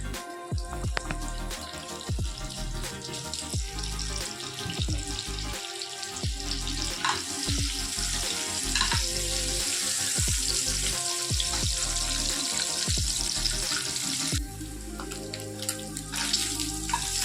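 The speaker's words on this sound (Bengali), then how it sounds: "এবার আন্ডাগুলোকে ফ্রাই করে নেব ম্যারিনেট করে রেখেছিলাম আন্ডাগুলো" Marinated eggs frying in hot oil, a loud steady crackling sizzle with frequent sharp pops and spatters running throughout, no talking over it.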